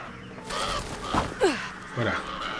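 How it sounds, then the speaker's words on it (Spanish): Crow caws from the horror game Alone in the Dark, a few harsh calls sounding in a dim, echoing game ambience. "Un cuervo."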